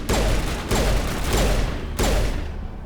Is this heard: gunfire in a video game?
yes